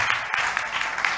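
An audience applauds and cheers a contestant at a gospel singing competition quarter-final, a dense, loud wash of clapping throughout.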